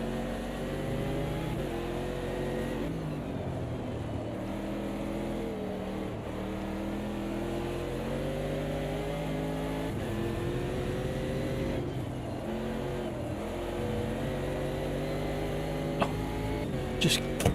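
A Corvette GT4 race car engine in the sim racing game Automobilista 2 drones continuously, rising and falling through gear changes and revs, steady and fairly close throughout with no talk.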